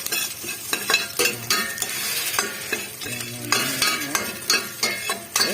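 Garlic hits hot oil in a pot and fries with a bright, crackling sizzle, mixed with repeated scraping and clinks of a utensil stirring against the pan, close and fairly loud, no talking.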